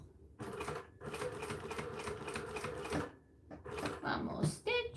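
A sewing machine stitches slowly and closely along the edge of fabric, its needle running in short rhythmic bursts separated by brief pauses, loud and near.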